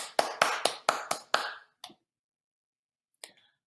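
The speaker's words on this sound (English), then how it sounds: "Let's have a round of applause for Phyllis." A small gala audience gives a brief round of applause, with a handful of sharp, close claps in quick succession that thin out to a couple of stray claps and then a final lone clap after a pause.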